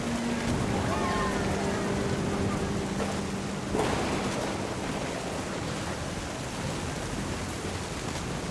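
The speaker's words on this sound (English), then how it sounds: "The thunder sounded much too close and full of angry power." Steady rain with rumbling thunder fills a scene in the video game What Remains of Edith Finch, a constant wash of noise with a sudden louder burst midway and faint tonal music beneath.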